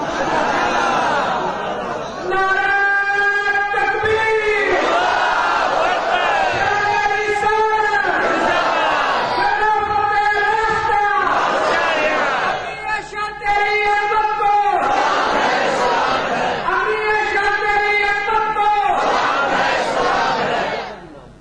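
A large crowd at a religious gathering chants slogans in loud, repeated waves, voices rising together in rhythmic bursts separated by brief pauses, with steady crowd noise throughout.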